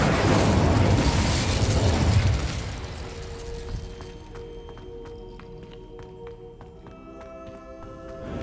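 A roaring fire-spell blast from the Incendio charm in Hogwarts Legacy bursts loudly and then fades into quieter ambient game sounds with faint tonal music.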